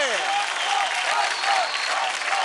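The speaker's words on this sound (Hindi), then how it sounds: "Come on guys, जोरदार तालियां हो जाए" Studio audience applause on a televised Indian dance competition stage, steady dense clapping throughout with a faint musical tone lingering at the start.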